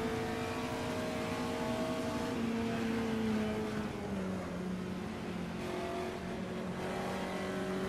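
A Puma GTE race car engine in the Automobilista racing game drones steadily at high revs, its pitch easing down through a gear change midway and then holding as the car runs at speed.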